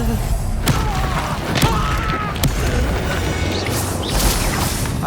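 A Confringo blast spell explodes in Hogwarts Legacy as dense booming roar with several sharp cracking hits, loud and continuous throughout.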